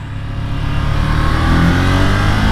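A 2020 Ducati Monster 797+ motorcycle engine while riding, a loud, steady mid-pitched drone that rises slightly as the bike accelerates, with no talk.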